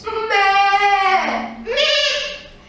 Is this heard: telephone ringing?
no